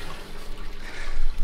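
A water pump running partly dry at a private fishing lake, giving a short, close, gurgling and splashing rush of water that swells toward the end.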